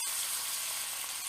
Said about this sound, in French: maintenant la poêle est bien chaude, le lard est légèrement cuit. On va pouvoir déglacer à mi-hauteur.